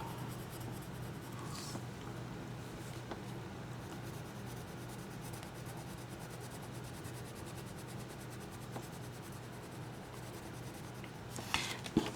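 Steady scratchy rubbing of a colored pencil shading across paper, a continuous close soft grain running throughout with a couple of brief sharper scrapes near the end.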